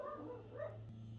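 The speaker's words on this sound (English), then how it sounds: "It's my dog's barking in the background." A pet dog barks in the background indoors, several yips and barks over a steady low hum, fairly faint and distant.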